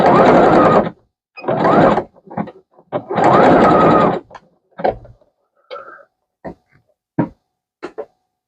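A sewing machine stitches hook and loop strips onto the back of a handmade tulle bow, running in several close, loud whirring bursts of about a second each, then short stop-start runs and clicks.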